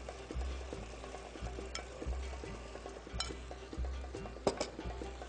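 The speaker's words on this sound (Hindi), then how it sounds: "आपने 2 टेबलस्पून दही के पैन में डालना है।" Two tablespoons of yogurt stirred into a hot pan of namkeen boti, soft steady sizzling and frying with rhythmic spoon scrapes and taps against the pan, close and fairly quiet, no talking.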